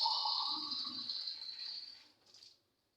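Water pours steadily into a cooking pan while tea is being made, a close, continuous splashing stream that gradually eases off and stops near the end.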